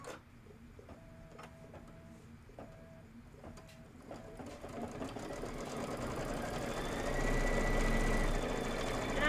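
An embroidery sewing machine stitches quilting on fabric, starting with soft clicks and short motor whirs, then building into a louder steady rapid whirring hum.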